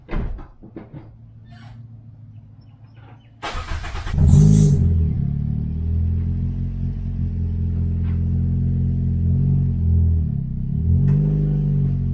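A turbocharged Toyota Corolla with a 3-inch custom exhaust starts with a sharp burst, then idles with a deep, loud, throaty exhaust rumble, briefly blipping the throttle.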